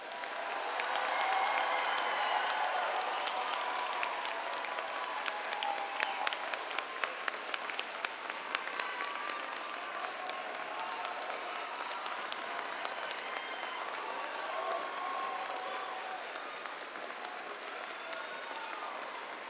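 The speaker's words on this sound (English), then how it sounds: "please join me as we honor all of these graduates with a well-deserved round of applause" A commencement crowd applauds the graduates in a long, sustained round of clapping that fills a large room, swelling early and then thinning gradually while staying even and distant.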